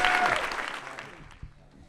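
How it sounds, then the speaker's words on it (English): A hall audience at a university talk finishes clapping, the applause fading quickly from a brief burst to near quiet within a second or two, followed by a faint knock. "Thank you very much for the applause."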